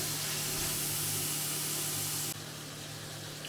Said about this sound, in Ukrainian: І поки цибуля смажиться